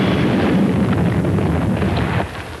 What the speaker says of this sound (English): The sound of Yasser Arafat throwing out the first grenade.